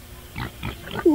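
A pig brought into a studio lets out a quick series of three or four short, close grunts, ending in a louder squealing oink.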